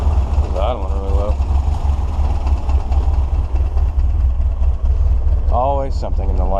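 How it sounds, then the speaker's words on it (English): Car engine idling low with the air conditioning running and a suspected faulty vacuum switching valve, a steady, loud low hum and rumble throughout, with someone speaking briefly over it near the start and end. "It's idling really low."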